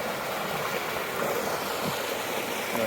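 Small pretty river on a mountain hike flowing beside a log crossing, a steady broad rushing wash of water close by with no voices.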